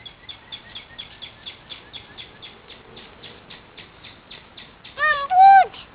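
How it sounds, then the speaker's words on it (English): A small bird chirps in a steady rapid series of short calls, fairly faint, followed by a few louder, higher whistling or squealing notes near the end. "Bird! You hear the bird?"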